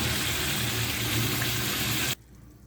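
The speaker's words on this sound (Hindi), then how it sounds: "अब हाफ के जी चावल के हिसाब से हम पानी डालेंगे इसमें।" Water is poured into a pot for Punjabi chicken biryani, enough for half a kilo of rice, making a steady, close rushing gush for about two seconds before it abruptly stops into near quiet.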